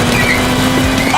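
A car spins out of control in an animated battle, a brief burst of tire squeal and skidding over a roaring engine, loud and close, with voices reacting over it.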